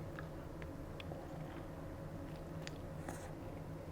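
Biting into a dry aged chuck burger with Gouda cheese, faint close chewing and soft crunching bites scattered over a few seconds, quiet and without talk.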